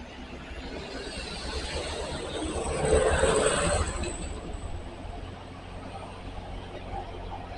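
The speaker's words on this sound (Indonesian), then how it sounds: "Di depan terlihat beberapa mobil, ada truk, ada bus, ada minibus" Road traffic of cars, trucks, buses and minibuses rolls past on a highway toward Bandung under cloudy skies, a steady roar that swells as one vehicle passes close around the middle.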